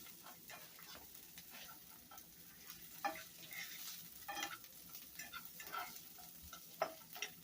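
Onions sautéing in a pan for a family dinner, a faint steady sizzle close by with scattered stirring scrapes and light clicks of a utensil, no voices.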